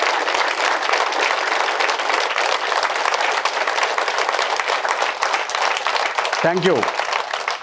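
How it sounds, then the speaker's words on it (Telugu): Sustained, strong applause from an audience at a talk on happiness rises to honor two masters. Someone briefly speaks near the end as the clapping carries on. "వాళ్ళిద్దరికీ గట్టిగా చప్పట్లు కొడదాం."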